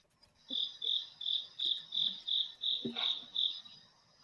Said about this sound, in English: you hear this cricket sound